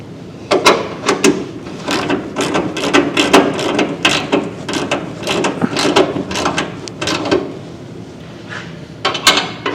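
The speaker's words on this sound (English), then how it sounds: "Now all I have to do is hold the lower nut and tighten the top nut down." A wrench works the top nut on the hood prop rod of a Scout restoration, a rapid series of sharp metallic clicks and clanks in uneven bursts, close and loud.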